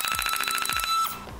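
A Diana brushless flywheel Nerf blaster gives a rapid series of short, bright electronic beeps, followed by a longer tone and a falling sweep, heard alone and fairly close.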